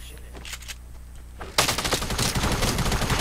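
Rapid Fortnite gunfire erupts partway through, a dense burst of machine-gun-style shots that stays loud and continuous after a quieter stretch of faint game ambience.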